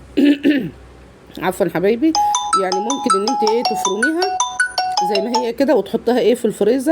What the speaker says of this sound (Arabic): التليفون كان بيرن